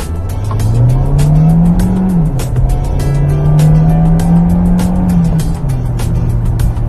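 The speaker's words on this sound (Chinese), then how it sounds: "我们来试一下短直线的一个加速。" Seventh-generation Hyundai Elantra accelerating hard in Sport mode on a short straight, a steady engine drone climbing in pitch, dipping briefly at a gear change, then rising again under continuous road and tyre noise.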